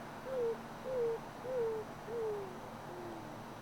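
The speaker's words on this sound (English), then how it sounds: "the Roadrunner makes its more typical cooing sound" A roadrunner gives its cooing call at Crystal Cove: four soft, evenly spaced, slightly falling coos close by, with a fainter fifth trailing off in a quiet outdoor setting.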